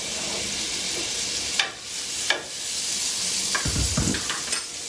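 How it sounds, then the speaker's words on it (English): Coconut oil sizzles steadily in a frying pan for cauliflower fried rice, a continuous hiss broken by a few sharp scrapes and clatters as the pan is stirred. "And then I'm also going to take some coconut oil and add that."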